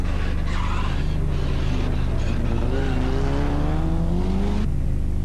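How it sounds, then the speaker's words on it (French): A rally car at the 1987 Ypres 24h rally engine drones and rises in pitch, close and steady, with a commentator talking over it. "Lietard en dérapage, Lampi off."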